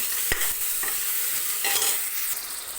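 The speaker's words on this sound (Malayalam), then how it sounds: "നമ്മുടെ സവോള വഴന്ന് കിട്ടാനായിട്ട് എളുപ്പം ഇച്ചിരി ലേശം ഉപ്പും അതുപോലെ അതിലേക്ക് കുറച്ച് മഞ്ഞൾ പൊടി ഇട്ട് കൊടുക്കുക" Sliced onions sauté with salt and turmeric powder in a hot pan, giving a steady close sizzle with occasional scraping stirs of a spoon.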